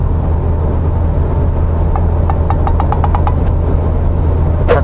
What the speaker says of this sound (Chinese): 直线的加速试一下。 油门是地板油门现在